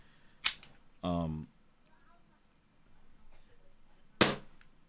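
An airsoft pistol fires two sharp, fairly quiet cracks a few seconds apart, with a short burst of talk between them and a soft rustle of handling in a quiet room.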